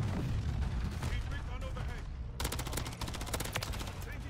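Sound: Renetti pistol gunfire in Modern Warfare 3 video game

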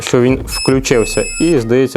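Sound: Worcraft CSC-S20LiB cordless pruner beeping when switched on

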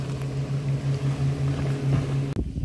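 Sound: passing motorboat

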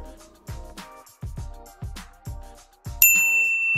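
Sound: notification bell ding sound effect

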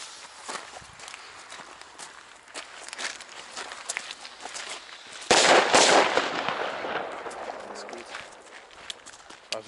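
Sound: firecracker exploding

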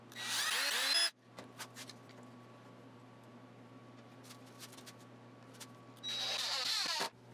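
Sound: power drill fastening wood in shop

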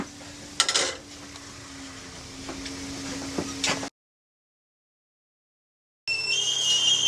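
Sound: kettle whistling as it boils

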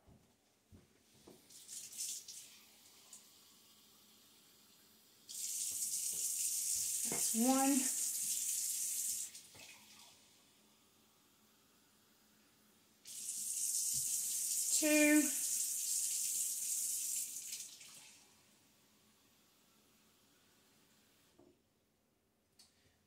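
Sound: lukewarm water pouring from a tap

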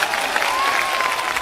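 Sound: audience applause for the judge

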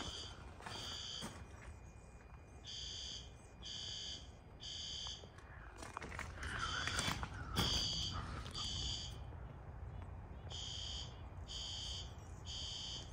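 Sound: fire alarm sounding during testing

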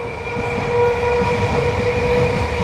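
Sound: passing train

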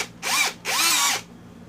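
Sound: cordless drill running during testing

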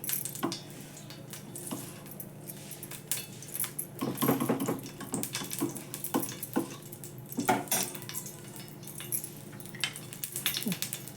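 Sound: poppy seeds and coconut roasting in ghee in a pan

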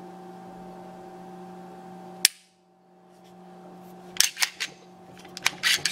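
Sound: dry firing a Ruger American pistol, trigger click

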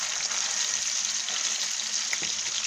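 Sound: salmon slices searing in a pan

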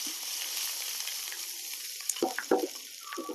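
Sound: fried mustard seeds and chillies tipped into curry, sizzling

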